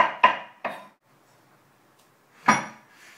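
A knife chops mushrooms on a cutting board: three quick close taps, a pause, then one more sharp cut, with no talking.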